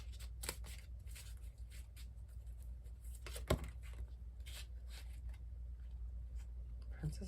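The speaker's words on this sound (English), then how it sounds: "Keep shuffling, they're saying." Tarot cards shuffled by hand for a weekly reading, giving a steady soft rustle and flutter with a few crisp snaps, close and fairly quiet against a low background hum.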